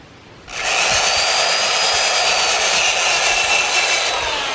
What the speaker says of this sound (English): We're not trying to make it perfect, we're just trying to get most of the rust off.